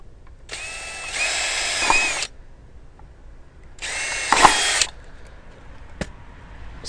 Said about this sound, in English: So there you'll see I've pre-drilled the 4 holes.